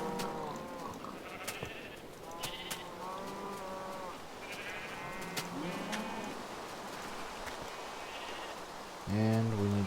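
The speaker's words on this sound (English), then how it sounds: "Goodness, so many sheep." Many Minecraft sheep bleat over and over, their wavering cries overlapping near and far throughout, with a louder, closer bleat right at the end over a soft background hiss.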